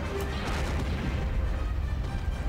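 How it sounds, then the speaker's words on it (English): Blaster and gunfire in a Star Wars droid battle on Kashyyyk, a dense, rumbling barrage of overlapping booms and bursts that continues loudly without pause. "Why do I still hear gunshots?"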